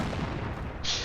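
LEFH howitzer artillery explosions in a video game battle, a brief continuous rumbling boom with a short hiss near the end.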